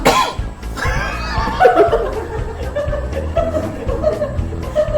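A person coughs sharply once, close and loud, then brief chuckling follows amid low background noise.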